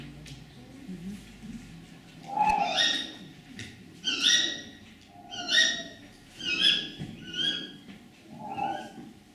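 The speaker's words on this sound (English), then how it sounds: "So the female tawny owl normally does the kee-wick, kee-wick, kee-wick, and the male is hooting in response." Repeated sharp owl calls, a female tawny owl's kee-wick answered by a male's hoots, come in six evenly spaced bursts over quiet night background.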